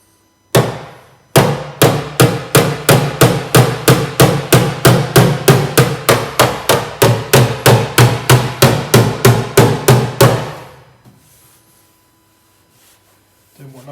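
A hammer taps out dents on the body panel of a Vauxhall Astra Exclusive CDTI estate: about thirty sharp, evenly spaced metallic blows in a quick steady rhythm, loud and close, then a sudden stop and near silence.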